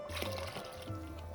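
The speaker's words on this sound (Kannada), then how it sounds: "ನೀರು ಹಾಕ್ಕೊಂಡು" Water pours into a pot of avarekalu sambar, a steady liquid fill with a continuous gurgling, splashing texture that holds for over a second, close and fairly loud.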